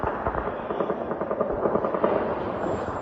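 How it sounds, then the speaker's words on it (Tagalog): Rapid bursts of gunfire during attacks in Lebanon, a dense continuous crackle of overlapping shots heard at a distance, steady through the whole stretch with no voices. "dinig ni Glenda ang pagputok ng mga tila baril"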